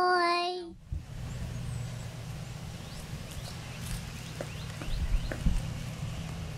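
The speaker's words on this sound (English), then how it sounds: "today I'm gonna show you my horse" A horse walks at an outdoor park, its hooves clip-clopping faintly and irregularly against quiet open-air ambience. A short tonal voice-like sound comes at the very start.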